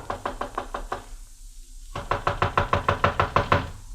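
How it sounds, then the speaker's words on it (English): Knuckles rap on a houseboat door in a radio drama: a quick run of firm knocks, a short pause, then a longer, louder series of rhythmic raps, close and dry with no voices. "I walked up the narrow awning-covered gangplank that led to the little deck and knocked at the door."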